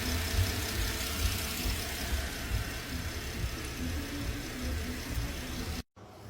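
A Porsche Panamera engine idles steadily after a timing chain replacement, a close, continuous low hum with even firing and no talk over it, until it cuts off abruptly near the end.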